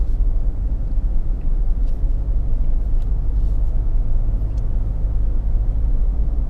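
2017 Lexus LX570 driving off road, a steady low engine rumble and drivetrain drone from inside or near the vehicle, constant and fairly loud, with faint scattered clicks and no talking.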